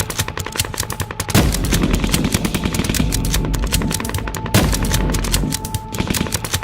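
Rapid bursts of machine-gun fire and gunshots serve as percussion in a looping music track, loud and dense, with sharp volleys at the start and again midway over a constant driving bed of sound.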